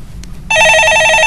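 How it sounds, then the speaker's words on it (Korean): A telephone rings loudly and steadily with a bright electronic trill, cutting in abruptly after a brief quiet moment during a Korean radio stock-market call-in show. "예, 전화 받아보겠습니다"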